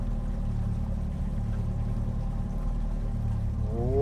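An outboard motorboat engine drones steadily and loudly at close range on a river shallows, with a rising whine near the end as the revs change.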